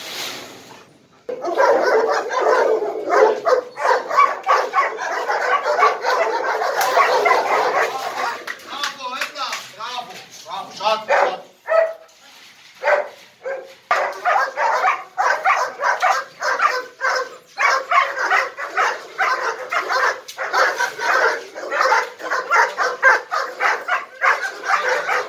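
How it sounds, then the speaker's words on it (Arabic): A frightened Rottweiler-type dog called a rock dog barks, yips and whimpers in rapid, uneven bursts throughout, loud and close, with people talking over and between the barks. "هتلر كلب روك كان جميل ده بيخاف جدا"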